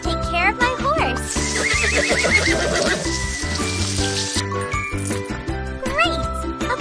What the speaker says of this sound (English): Now let's take care of my horse.